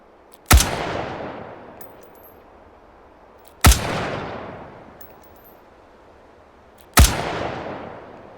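Three loud, sharp gunshots ring out at a qualification range in the H3VR virtual reality game, spaced about three seconds apart, each trailing off in a long echoing decay.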